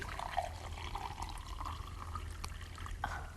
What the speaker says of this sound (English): If you're going to use fish for this, of course you're going to need to add some water to it.